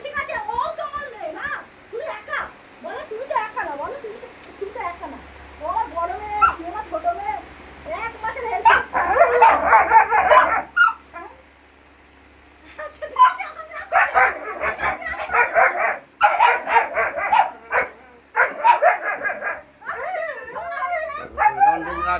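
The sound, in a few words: two pet dogs quarrelling and barking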